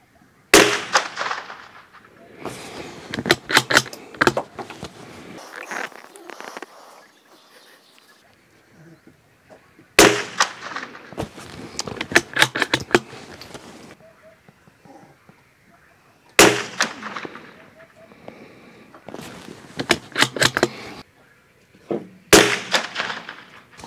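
Rifle shots cracking at a target on a shooting range, in sharp single reports and quick bursts spaced by pauses, loud and close, with people talking now and then between volleys.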